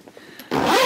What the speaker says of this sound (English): We can zipper it back up.